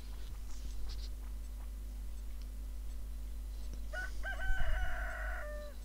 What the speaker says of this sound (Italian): Quale miglior modo di cominciare la giornata se non con un bel gallo che ti suona?